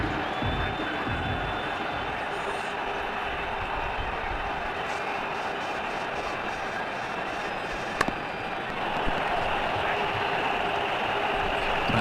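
Steady crowd noise from a cricket stadium in the video game Ashes Cricket 2009, during an IPL-patch match between Mumbai Indians and KKR, holds a continuous broad roar for the whole stretch with a brief sharp knock near the end.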